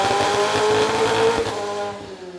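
McLaren with a stage 2 tune, blow-off valves and air filters running hard on a dyno, a loud strained engine howl with a steady pitch that breaks up and fades near the end as power cuts.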